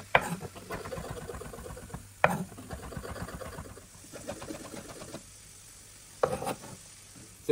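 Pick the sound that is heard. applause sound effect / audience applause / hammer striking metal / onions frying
onions frying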